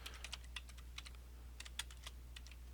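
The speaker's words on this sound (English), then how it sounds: "So you're just typing in the email and then next." Someone types an email address into a computer login screen, producing a quick, irregular run of crisp key clicks over a low steady hum, with no talking.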